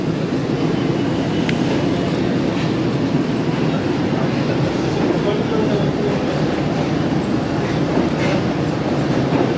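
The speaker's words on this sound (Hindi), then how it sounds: "ट्रेन ने मूव करना शुरू कर दिया है" Tezgam passenger train pulling out of Rawalpindi railway station, heard from the third coach behind the locomotive: a steady, loud rumble of rolling wheels and carriage noise with faint clicks, continuous throughout and not interrupted by talk.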